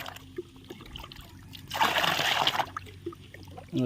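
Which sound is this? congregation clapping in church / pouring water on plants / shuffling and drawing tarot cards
pouring water on plants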